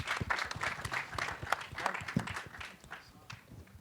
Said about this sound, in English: Can we welcome them with a big round of applause?